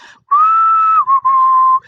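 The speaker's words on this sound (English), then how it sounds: "Yes, I can whistle." A person whistles a short tune nearby, a clear steady pure tone held for about two seconds with a brief dip and a break before the note resumes, alone with no talk.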